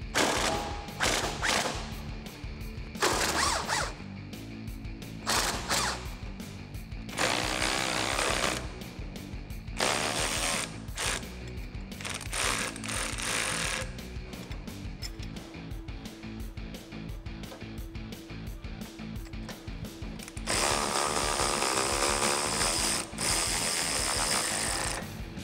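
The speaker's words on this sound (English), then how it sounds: "I'm gonna break them loose using my 18mm socket on my impact gun" An impact gun with an 18mm socket breaks loose suspension bolts on a Jeep Wrangler JLU Rubicon. It sounds as repeated loud, rapid hammering bursts, close up, separated by short pauses and ending in a long sustained run.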